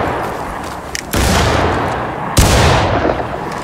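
Two heavy rifle volleys crash out in a War of Rights line drill, one at about a second in and another near two and a half seconds, each a loud broadband burst trailing into a long rumbling decay.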